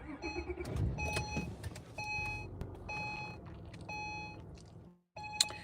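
A 2010 Acura TL with a manual gearbox is switched on: a chime sounds close by about once per second, repeating several times over a low, steady rumble. Near the end a brief drop to quiet is followed by a sharp click.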